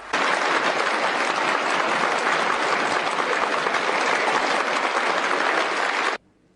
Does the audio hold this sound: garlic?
no